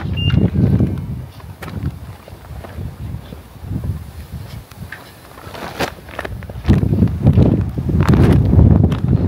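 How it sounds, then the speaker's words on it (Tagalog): Loud gusts of wind buffet the microphone in surging waves, rising and falling, strongest at the start and toward the end. "Lakas na hangin."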